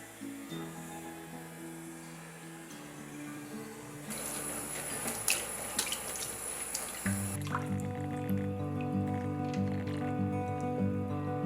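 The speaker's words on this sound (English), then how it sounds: "rinse with several changes of water" Split peas rinsed under running tap water in a sink, a steady rush of flowing water with splashing in the middle stretch, set against a low background hum, with no talk.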